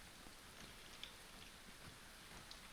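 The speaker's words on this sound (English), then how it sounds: "Right now it looks like it's raining." Steady rain falling in the medieval colony-survival video game Going Medieval, an even, faint hiss of drops throughout with no talk over it.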